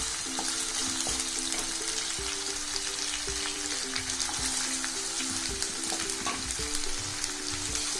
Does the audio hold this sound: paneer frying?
yes